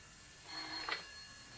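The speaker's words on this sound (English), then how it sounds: "Oh, excuse me, that's my phone." A telephone rings as a radio drama sound effect, one short faint ring rising briefly over steady background hiss.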